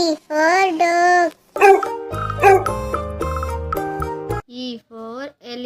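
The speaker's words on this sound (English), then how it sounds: "D for dog." A dog barks and yips a few times up close, then a bright chiming jingle plays, and more short barks follow.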